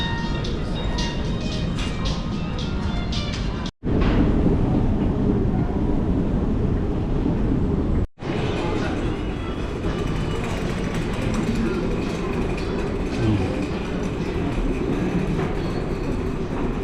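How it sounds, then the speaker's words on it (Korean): An airport train at Atlanta airport gives a continuous loud rolling rumble inside the car, broken by two brief dropouts. "전철을 타고 국제선 타는 곳까지 이동합니다."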